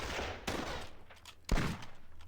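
Two bursts of rifle gunfire in the Squad Battles wargame, each a sharp crack trailing into a short rumble, fairly close, with a low background bed between shots.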